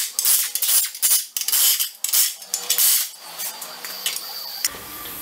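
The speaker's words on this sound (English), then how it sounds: "in order to get the steering rack out of here, you have to unbolt all these bolts for this cover." Metal tool work on bolts of a steering rack cover on a car's front subframe, with a run of sharp metallic clicks and clinks close by, settling into quieter faint clatter near the end.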